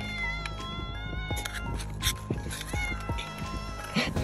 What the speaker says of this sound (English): This black cat is kind of stalking us for food